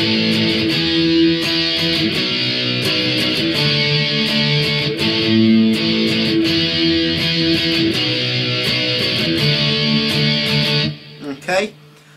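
Electric guitar strums chorus chords from a song using only downstrokes, four even strokes per chord in a steady, loud rhythm, ringing with a slight effects sheen before cutting off near the end.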